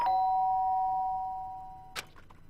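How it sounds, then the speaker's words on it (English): A two-tone doorbell chime at the start of a Danganronpa game scene, the ding-dong tones ringing out clearly and slowly fading, followed by a short soft knock or click near the end. "the sound of the doorbell forced its way into my room"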